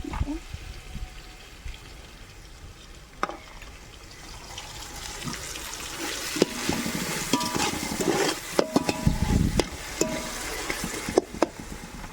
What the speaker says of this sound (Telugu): అల్లం చిన్నపాయ మాడకుండా కొంచెం బాగా ఫ్రై చేసుకోండి